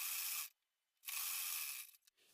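A sewing machine stitches a blouse in two short whirring runs separated by a brief silence, faint and close, with no talking.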